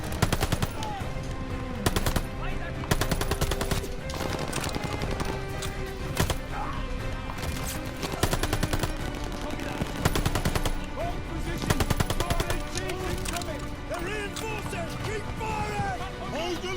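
MP44 assault rifle firing in Call of Duty Vanguard, with rapid bursts of automatic gunfire repeating through a busy battle mix of distant shots and effects, fairly loud throughout.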